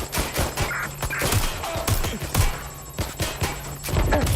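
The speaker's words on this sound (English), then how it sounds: "Someone's shooting." Gunfire in Watch Dogs: Legion, a rapid irregular string of sharp loud shots and bursts, close and repeated throughout, mixed with faint background game sounds.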